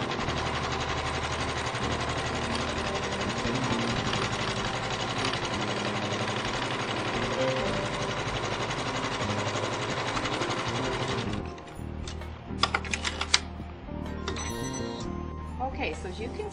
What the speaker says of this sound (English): it will stitch out the seam around the leaf